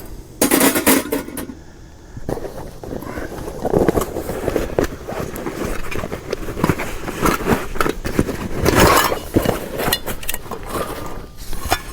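Pots, a small skillet and a lid from a camping cook kit rattle and clank together as they are handled at a campsite, giving sharp metallic knocks and scrapes in irregular bursts.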